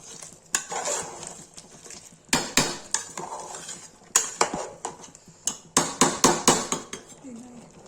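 Chicken bhuna masala being stirred in a metal pot with a spoon, giving repeated loud clanks and scrapes in bursts that quicken toward the end, with faint sizzling beneath.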